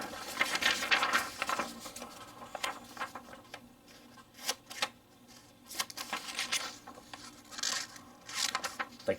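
Small scissors on a Gerber Suspension NXT pocket multi-tool snipping through a sheet of printer paper, giving a few close, crisp, irregular cuts and rustles that stand alone with no talking.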